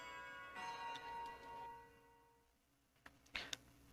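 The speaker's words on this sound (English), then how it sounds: "The bell rang." A school bell rings in the visual novel game Love, Money, Rock'n'Roll, a sustained chiming tone with lingering harmonics that fades out, followed by a few faint soft clicks.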